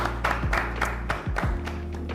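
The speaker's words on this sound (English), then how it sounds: "A round of applause for him." Audience applause at a pitch competition grand finale, a steady wash of many hands clapping under a strong low hum, with voices faintly mixed in.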